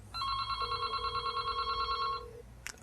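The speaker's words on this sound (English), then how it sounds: "So give that call again, and we should hear this phone ring" A telephone on an Asterisk phone system rings once with a bright electronic warbling tone for about two seconds, fairly faint in a quiet room.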